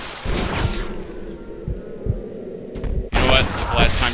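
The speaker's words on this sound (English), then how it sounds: "Take his head off, John. Beautiful shot." Gunfire in the Red Dead Redemption video game: several sharp shots spaced across a few seconds, then a louder burst near the end, with game ambience between.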